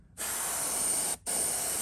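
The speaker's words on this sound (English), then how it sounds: "I'm just gonna finish spraying it out." A spray gun spraying candy paint onto a Magnum S-crank, two close bursts of steady hissing, a longer one then a shorter one after a brief break.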